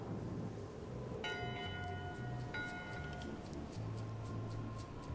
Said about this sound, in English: 1 bell, crew voting. 2 bells, LeChuck shouting